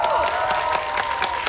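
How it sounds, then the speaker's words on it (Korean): A cinema audience in Seoul applauds during a film stage greeting with the director and cast, a dense, even wash of clapping with light cheering that continues throughout. "네, 박수 한번 부탁드릴까요?"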